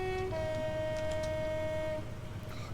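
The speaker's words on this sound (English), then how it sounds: "I love that horn on the Class 58." Horn of a Class 58 diesel locomotive in Train Simulator 2021 on the Great Western main line at night, one sustained two-tone blast about two seconds long over a low engine rumble, close and loud.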